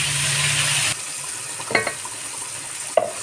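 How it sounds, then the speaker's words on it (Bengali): Ground spice paste frying in a pan for a soybean and potato curry, a close, steady sizzle that cuts out after about a second, followed by a few quiet stirring scrapes and clinks. "মশলাটা খুব সুন্দর করে কষিয়ে নেব।"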